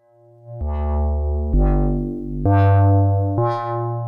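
A slow synthesizer sequence of four sustained, buzzy notes, each changing pitch about once a second, loud and steady with no talking.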